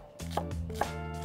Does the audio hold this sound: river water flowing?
no